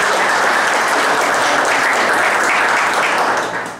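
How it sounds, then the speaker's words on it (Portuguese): A loud round of applause from a small audience at a political party conference, close and continuous many-handed clapping that holds steady then begins to fade out at the end. "Eu pedi aí uma salva de palmas para o Apoio para o encaminhamento."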